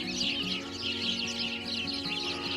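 Sparrows chatter and chirp continuously as a dense overlapping flock, loud and close, during an autumn walk on the South Downs in East Sussex.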